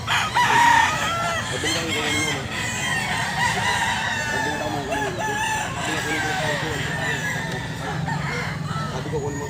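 Roosters and hens for sale at a pet market crow and cluck loudly and close by over a busy crowd murmur, with one crow near the start and more fowl calls throughout.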